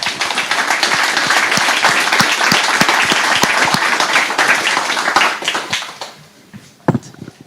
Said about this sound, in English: big round of applause for our participants